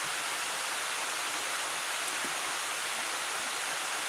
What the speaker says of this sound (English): If this rain gets too loud, guys, y'all let me know.